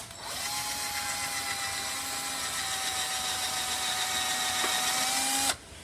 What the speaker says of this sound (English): we're going to drill a hole in here